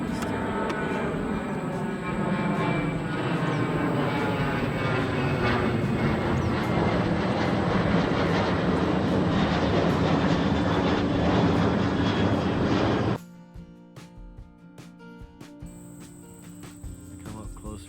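A jet aircraft passes close overhead near rail tracks in a Nashville park, a loud, broad engine roar that holds steady for about thirteen seconds, then cuts away to quieter outdoor sound with insects.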